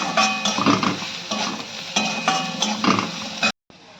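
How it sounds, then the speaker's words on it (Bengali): Turmeric and spice masala fried and stirred in a pan for a Bengali sim posto (flat beans with poppy seed), giving a steady sizzle with scraping spoon strokes throughout, close and fairly loud, before a brief drop to quiet near the end. "হলুদ, আমি এটা ভালো করে কষাবো।"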